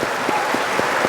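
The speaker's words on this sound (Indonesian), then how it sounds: "Mari kita berikan tepukan yang hangat untuk Bapak dan Ibu yang hadir di sini." An audience at a church revival gathering applauds a couple, giving a short burst of steady, dense clapping at moderate distance.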